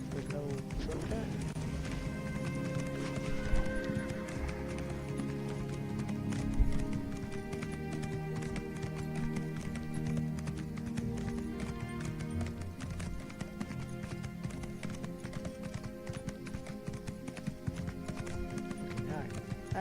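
A horse's hooves gallop in Elder Scrolls Online in a steady, fast clip-clop rhythm that runs throughout, heard over continuous game music.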